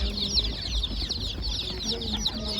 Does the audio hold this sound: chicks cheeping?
yes